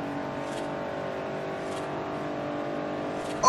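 A Nissan supercar in Forza Horizon drones at high speed near its top end, a steady engine hum with faint whooshing passes before a brief sharp rise at the very end.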